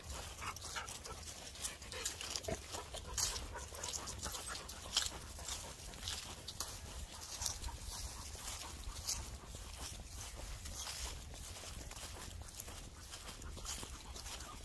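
Several dogs on a pack walk pant steadily and continuously at close range, with faint footsteps and occasional whimpers mixed in, and no talking.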